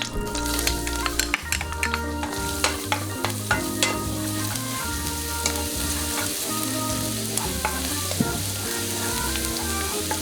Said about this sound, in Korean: 프라이팬에 식용유를 두른 뒤 다진 마늘을 넣어서 볶습니다.